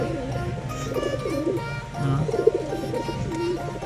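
Pigeons coo in low, throaty, rolling calls, several overlapping phrases repeating close by, with faint chirps and background noise.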